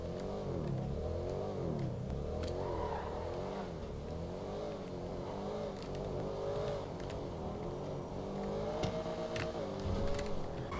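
A BMW E39 engine in the video game GTA 5 drones steadily throughout, its pitch wavering as revs rise and fall, with no one talking.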